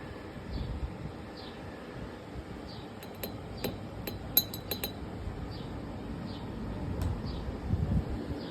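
Glasses clinking as a drink is made after a big stir, with a run of bright clinks and taps in the middle and one more later, over a steady low background hum.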